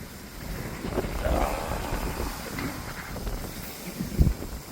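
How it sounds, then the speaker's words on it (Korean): Strong wind from an approaching typhoon buffets and roars in gusts against the microphone at a fishing spot, with a rushing, turbulent sound rising and falling. "날이 새니까 바람이 점점 더 거세집니다"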